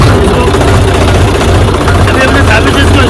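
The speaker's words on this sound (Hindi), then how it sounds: "अभी हमने चाबी से इसको स्टार्ट किया।" A Mahindra tractor engine, just started with the key, idles on a farm in India with a loud, steady low diesel chug, close by throughout.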